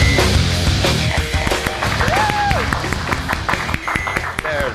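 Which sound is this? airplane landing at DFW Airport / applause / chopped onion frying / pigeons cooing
applause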